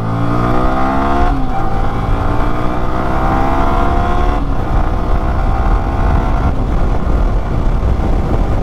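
A Yamaha R15 S motorcycle engine roars loudly and steadily, its pitch climbing and then dropping at each gear change as it accelerates through several gears, close up and continuous with no talk.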